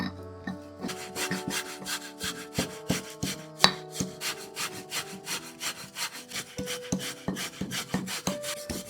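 Coconut grated by hand: a steady, rhythmic rasping of quick, regular strokes, close and fairly quiet, with background tones and no talking.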